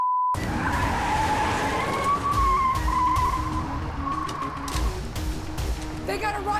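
Tires squeal and skid in a long rising screech during evasive driving in an action film, over engine roar with impacts and a voice briefly near the end.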